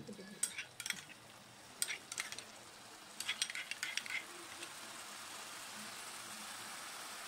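Chicken pieces, washed and unseasoned, stirred in a hot pan while they fry: intermittent scraping and clattering strokes in bursts over a soft, steady sizzle that carries on alone toward the end.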